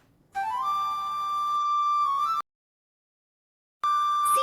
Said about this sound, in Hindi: सीटी की आवाज है।